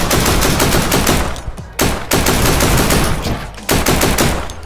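Dense, rapid automatic gunfire from a video game, with loud sustained bursts broken by a couple of brief pauses, close and heavy throughout.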